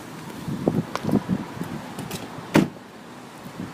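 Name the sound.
car back door being opened and closed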